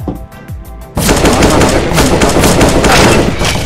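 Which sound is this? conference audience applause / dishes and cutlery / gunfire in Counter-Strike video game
gunfire in Counter-Strike video game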